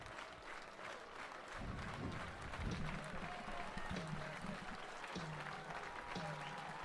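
A baseball crowd at Welland Stadium cheers and applauds during an IBL playoff game between the Welland Jackfish and Guelph Royals. The applause is sustained and fairly steady and rises slightly partway through, with voices in the background.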